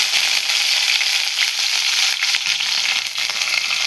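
Curry leaves hit hot oil with mustard seeds that have already popped while cooking okra stir-fry, producing a loud, close, continuous sizzle sprinkled with quick sharp crackles.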